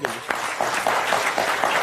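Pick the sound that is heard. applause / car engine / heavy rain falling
applause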